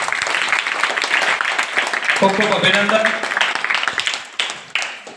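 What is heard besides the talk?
audience applause at a school arts festival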